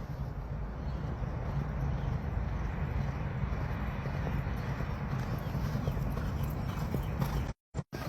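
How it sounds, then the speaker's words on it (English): Racehorse hooves cantering at an easy pace on a training track, a steady rhythmic clip-clop heard continuously through breezy outdoor noise, cutting out briefly at the very end. "The first couple, just a nice easy canter"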